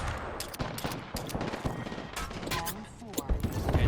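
Teammates firing weapons during an Apex Legends ranked match, with dense bursts of rapid gunfire and sharp shot transients running throughout under steady game noise, with a voice talking over it.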